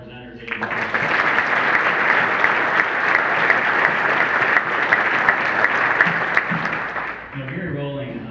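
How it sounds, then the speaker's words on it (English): A luncheon audience applauds the presenters with sustained, dense clapping that swells quickly and holds steady for several seconds before fading as a voice begins to speak. "I think another round of applause for all the presenters."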